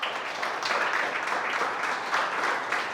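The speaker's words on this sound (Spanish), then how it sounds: "Denle un aplauso a Jesús por eso" Church congregation applauding for Jesus during a Spanish-language sermon, a full, steady wave of many hands clapping with slight swells, moderately loud and without talk over it.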